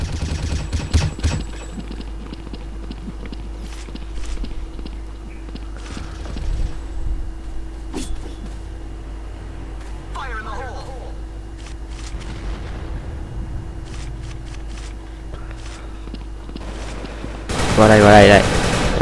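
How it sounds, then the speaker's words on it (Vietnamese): Rapid automatic gunfire from the close-combat shooter game Dragon Svip, with bursts of shots over continuous game background noise and a loud burst near the end. "súng mạnh quá, bắn chưa gì nữa là chết rồi"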